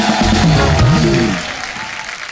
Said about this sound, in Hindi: जुबिन के लिए जोरदार तालियां हो जाए एक बार।